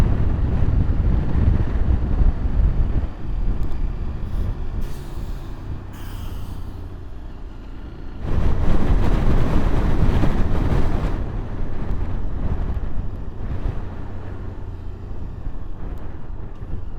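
Strong wind buffeting the microphone at Ushuaia International Airport, a loud rumbling roar that rises and falls in gusts for the whole stretch, with no one speaking.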